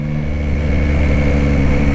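A 2021 Yamaha Tracer 9 GT motorcycle engine drones steadily while the bike is ridden, a loud, close, continuous tone with strong low harmonics and a slight wavering pitch. No one speaks.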